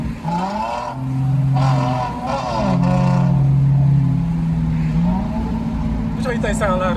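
Engine of a Dodge Challenger or Lexus IS300 revving hard, with rising and falling tones and a steady loud drone, under people talking.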